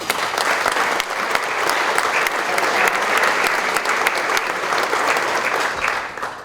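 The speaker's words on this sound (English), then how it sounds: "please give them a round of applause" An audience at a mayor's breakfast applauds council members and a mayor, a dense, sustained wash of clapping from many people that holds steady for several seconds before easing off.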